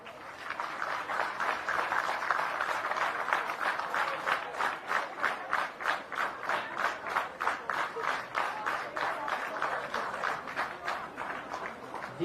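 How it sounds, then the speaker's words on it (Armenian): An audience in a parliamentary hall in Armenia breaks into rhythmic, unified clapping that pulses steadily for several seconds, loud and sustained with no talk over it. "Ծափահարություններով"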